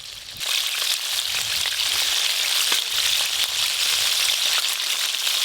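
Chicken sizzling steadily in hot oil for KFC-style fried chicken, a dense, continuous crackle and hiss at close range with scattered sharper pops throughout.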